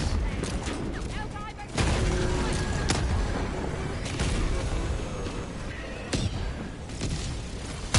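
Gunfire from the Helldivers 2 video game, a dense barrage of shots and heavy thumps rolling on throughout, with sharper louder cracks near the two- and six-second marks, over a constant noisy battle backdrop.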